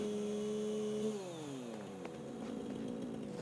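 A chainsaw in the video game Satisfactory drones steadily, then its pitch sweeps downward as it bites in, settling into a rough, continuous grinding buzz for a few seconds.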